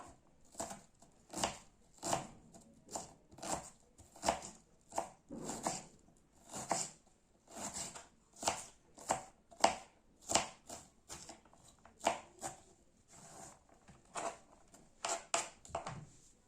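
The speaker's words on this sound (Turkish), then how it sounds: "Yemeklik doğruyorum soğanımı" A knife finely chopping onion on a cutting board, steady rhythmic taps of about one per second over roughly sixteen seconds, close and fairly quiet with no talking.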